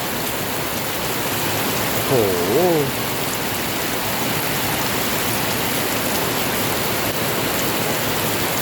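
Steady broadband hiss of heavy, windless rain pouring without pause in Wang Phikun, Thailand, with a brief exclaiming voice partway through.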